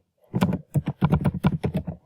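Close, crisp typing on a computer keyboard, a quick irregular run of about ten keystrokes with brief pauses between bursts.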